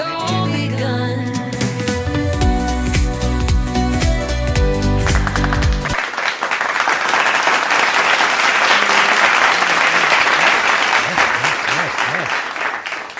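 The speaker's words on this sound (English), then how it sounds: "Thank you for the clapping." Studio audience applause on The LDM Show, a dense, loud burst of clapping that rises after a musical passage and holds steady for about seven seconds.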